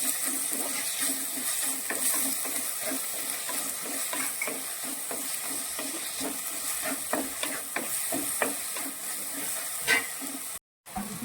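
A sardine mixture with salt sautéing in a pan, making a continuous sizzle broken by rhythmic scraping stirs, close and fairly quiet, with a brief dropout near the end and no voices.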